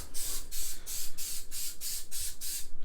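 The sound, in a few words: adhesive spray sprayed onto foam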